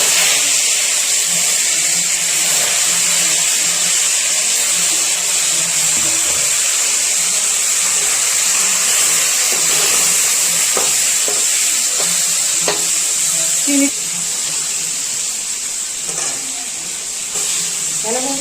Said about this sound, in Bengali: এখন চিংড়িটাকে ভেজে নিব।